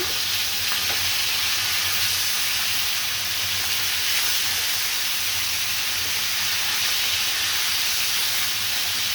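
Koi fish frying in hot oil while being turned over, a steady close sizzle and hiss running throughout with faint clinks of handling, no voices.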